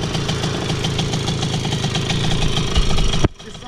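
A Motorynka moped engine idles close by with a steady, rapid putter, then cuts off abruptly near the end, leaving quiet background.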